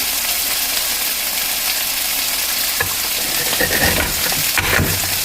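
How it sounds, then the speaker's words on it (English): Steady, loud sizzling of chicken frying in a pan, with occasional scraping and stirring sounds near the end. "All I can hear is sizzling"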